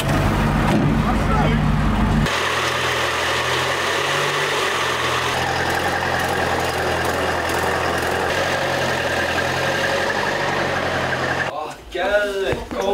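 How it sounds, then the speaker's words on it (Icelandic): A tractor engine while driving, a steady low rumbling drone running throughout with a noisy burst at the start, while people talk over it, ending in a short mix of voices. "Ég er bara að keyra traktorinn."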